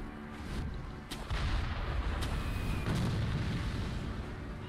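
Cannon fire in the game Sekiro: Shadows Die Twice: a few heavy booming blasts spaced a second or so apart, loud and close over a continuous low rumble of game ambience.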